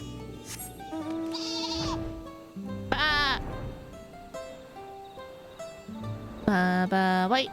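Sheep in the video game Final Fantasy XIV bleat loudly several times over a light musical game background, each call a wavering, nasal cry, the last one longest and closest.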